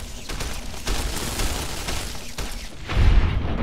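Gunfire in Fallout: New California comes as repeated loud, close shots with rattling mechanical texture, ending in a heavier booming blast near the close.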